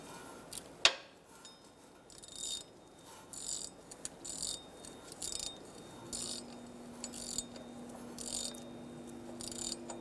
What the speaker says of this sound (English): So you can use your 1/4-inch ratchet with a socket, or your wrench that has a ratchet wrench on it.